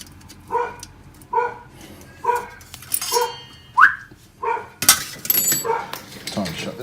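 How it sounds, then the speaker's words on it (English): A dog barks in a series of sharp, regular barks, about one per second, fairly close outdoors, with a higher yelp in the middle and a sudden clatter near the end. "Time to shut the dog up."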